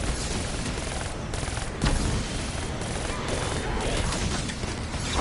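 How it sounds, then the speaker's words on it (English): Dense automatic gunfire in a Black Ops 3 Zombies match, a continuous loud barrage of rapid shots with occasional heavier bursts, filling the whole stretch without pause. "I'm shooting him with the dredge."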